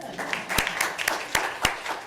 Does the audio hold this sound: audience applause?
yes